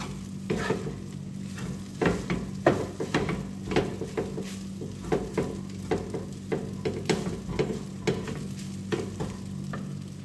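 Chicken fried rice sizzles in a pan while a utensil stirs and scrapes it in steady repeated strokes, close and clear, with a low hum running underneath throughout.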